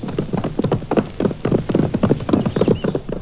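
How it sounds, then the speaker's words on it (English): Rapid horse hooves clip-clop in a steady trotting rhythm as a close, clear sound effect in a children's storybook reading about a prince riding up to a dragon. "Brave Prince George climbed on his horse and rode right up to the dragon."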